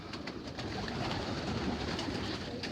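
Young racing pigeons cooing inside a loft, a soft continuous murmur of overlapping coos over a dense background hum, with no voices.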